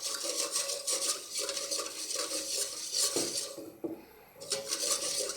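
Milk and sugar whisked in a pot over low heat on a stove: brisk, rhythmic scraping strokes close by, with a short pause before the whisking picks up again.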